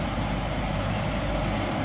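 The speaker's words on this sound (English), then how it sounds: "What is very unusual for this stack train is carrying some HDL containers" A BNSF eastbound double-stack freight train carrying containers rolls past in downtown St Paul, a steady loud rumble of wheels and cars with a faint high squeal, no voices.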